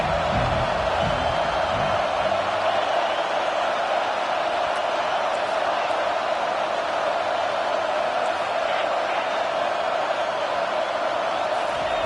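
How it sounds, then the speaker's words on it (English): A stadium crowd at a football game roars steadily on third down, a dense sustained wash of cheering that holds at even loudness throughout. "Decibels rising as the crowd gets behind this defense on third down."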